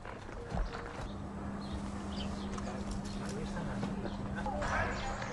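Horse walking during a riding therapy session, hooves clip-clopping in a steady rhythm under continuous talk, with a faint bird now and then.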